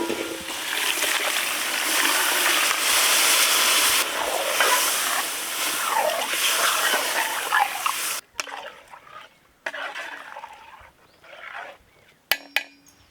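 Water is poured into a pot of fresh lamb offal with turmeric, rock salt and tomato, a loud steady rushing splash for about eight seconds, then quieter hissing and bubbling with a few clinks.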